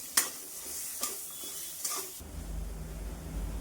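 Chana dal paste with ginger, green chilli, cumin and asafoetida frying in a pan, with a few sharp spatula scrapes and clinks early on, then a low steady sizzle.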